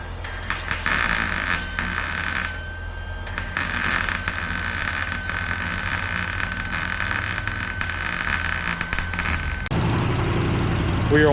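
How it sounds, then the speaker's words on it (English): Honda RSX Type S with a swapped K24 engine idles steadily for about ten seconds, a constant low rumble with a thin whine above it, heard up close while coolant is bled. "we're bleeding the coolant out and just letting the car run just to make sure that everything is straight on it"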